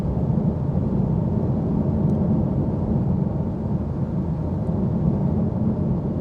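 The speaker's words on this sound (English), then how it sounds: "Listen to this road noise. I'm doing 68 miles an hour" Inside a Manthey Racing Porsche 911 GT3 at about 70 mph, a loud, constant low roar of tyre and road noise fills the cabin, unbroken and without voices.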